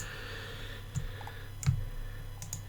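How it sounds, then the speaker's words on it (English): Quiet computer mouse clicks and control key taps while selecting rows in an Excel spreadsheet, about three sharp isolated clicks spread out over a low steady hum. "I release the control button and then press it again before I click the next row"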